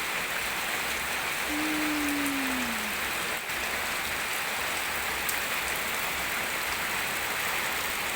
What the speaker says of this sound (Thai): ดูบรรยากาศฝนตกนะ